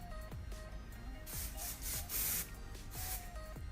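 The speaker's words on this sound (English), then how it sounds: "I'm gonna use a small amount of hairspray" Hairspray is sprayed onto hair in several short hissing bursts, close and fairly soft, with faint handling sounds between them.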